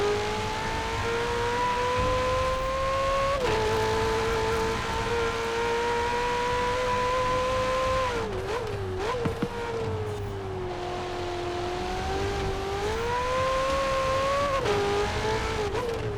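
A Ferrari 488 GTB supercar runs up a hill climb, its engine droning loud and close, pitch climbing through gears with brief dips at shifts and a short rough stutter midway.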